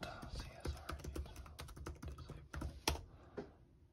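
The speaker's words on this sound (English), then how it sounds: "type in CSRUTIL space disable, DISABLE. Click enter." Keys on a computer keyboard tapped in quick irregular bursts while entering a command on a 2011 MacBook Pro, close and crisp, with a heavier key press near the end and faint breathy speech underneath.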